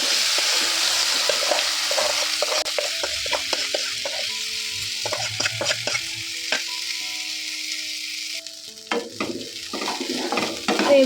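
Rice grains frying in hot oil with bay leaf and whole tempering spices for basanti pulao, a steady close sizzle broken by scraping stirs and clinks of a spoon against the pan.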